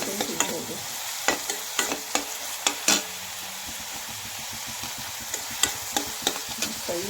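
A pan sizzles steadily while egg bhurji is fried before the tomatoes go in, with irregular sharp clicks and scrapes from a spatula against the pan.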